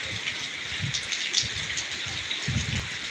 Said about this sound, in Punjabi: ਬਹੁਤ ਹੀ ਜ਼ਿਆਦਾ بارش ਹੋ ਰਹੀ ਹੈ